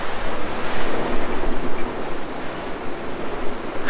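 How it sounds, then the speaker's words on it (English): Ocean waves rolling under a sailboat in windy Aegean conditions, a loud continuous wash of surf and wind noise buffeting the microphone throughout, with no voices. "Some waves like that, they just kind of roll under you"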